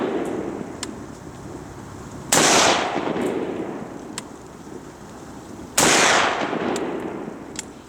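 Two loud, sharp gunshots from a Micro Draco Romanian AK-47 pistol firing 123 grain full metal jacket rounds, a few seconds apart, each trailing off in an echoing outdoor decay over steady background noise.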